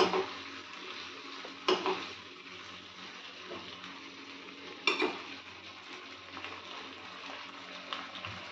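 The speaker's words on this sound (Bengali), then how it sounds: "আবারও ভালো করে মিক্স করে নেব।" Chilli paneer being stirred in a pan after soy sauce goes in: a soft, continuous sizzle with scraping stirs and a couple of sharp clinks of a spatula against the pan.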